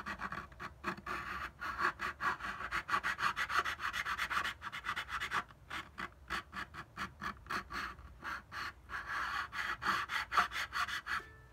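A file scrapes across guitar fret ends in quick, repeated rasping strokes, close and fairly quiet, with brief pauses between runs.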